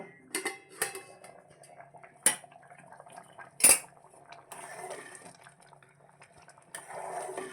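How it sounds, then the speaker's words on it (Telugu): A lid set on a cooking pot of moong dal pulagam on the stove, with sharp metallic clanks and a few lighter taps of utensils against the pot over a quiet background. "మనం స్టవ్ వెలిగించేసుకొని దీన్ని ఉడికించేసుకుందాం ఉడికించేసుకుందామండి మూత పెట్టేస్తాను"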